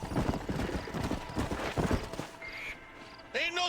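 Horse hooves clatter in quick rhythmic clip-clop through the first two seconds of a Red Dead Redemption ride, loud and close, then fade as game voices talk over a quieter stretch.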